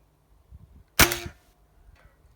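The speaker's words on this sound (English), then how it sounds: "there is definitely a bit of a twang when we pull the trigger" A single sharp shot from a Weihrauch HW80K .22 spring air rifle, with a brief metallic twang ringing after the crack, heard close and alone in a quiet room.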